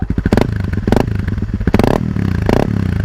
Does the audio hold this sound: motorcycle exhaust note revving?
yes